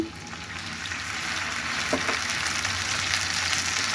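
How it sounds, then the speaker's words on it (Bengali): Fried onions sizzling in a pan for a bitter gourd and fish roe dish after a splash of water is added, a dense steady hiss swelling slightly louder, with a brief clink near the middle and no voices. "পেঁয়াজটাকে ভেজে নিচ্ছি। ভাজা হয়ে গিয়েছে, আমি একটু করে পানি দিয়ে দিচ্ছি।"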